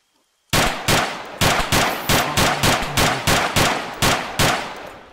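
About ten loud, evenly spaced gunshots ring out at a steady pace in the Arma 3 video game during a Battle Royale match. Each sharp report decays briefly before the next, and the shots follow a short silence.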